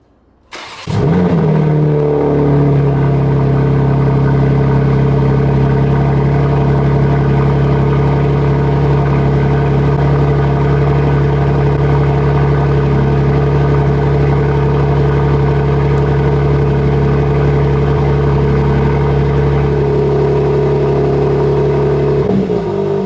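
A BMW G82 M4 on 20-inch Work Meister wheels starts up and runs for about twenty seconds: a loud, close, steady deep engine drone with mild revving, no talking.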